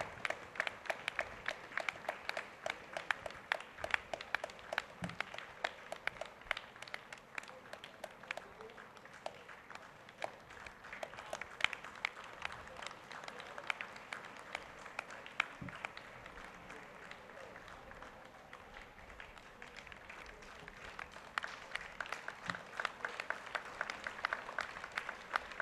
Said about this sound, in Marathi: कृपया आपण जोरदार टाळ्या वाजवून त्यांचं अभिनंदन करूया.